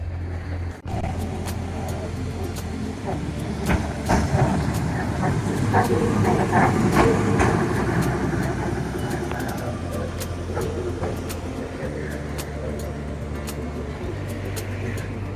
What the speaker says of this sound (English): this beautiful old wooden electric tram system